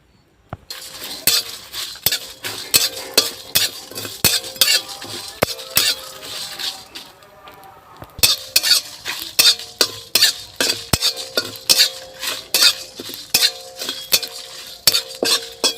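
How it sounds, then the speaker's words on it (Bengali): Whole bay leaves, dried red chillies, coriander seeds and cumin frying in a wok, a metal spatula stirring and clinking steadily against the pan in quick repeated scrapes and taps, close and fairly loud, with a faint sizzle beneath. "কড়াইতে আমি এবার মশলাগুলো ভেজে নেব।"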